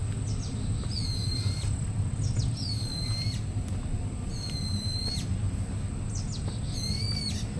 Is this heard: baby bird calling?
yes